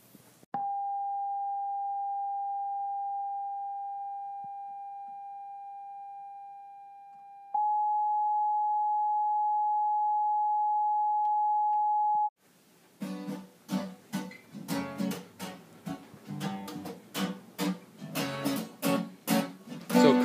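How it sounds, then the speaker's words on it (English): A steady pure sine tone around 800 hertz hums alone for several seconds, stepping up slightly in pitch partway through, then cuts off; sharp rattling clicks follow. "we're going to play a tone at around 800 Hertz"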